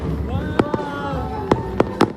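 Fireworks burst overhead at a town fiesta in Batoeños, several sharp booms spaced irregularly over a steady crowd murmur, with voices chattering throughout.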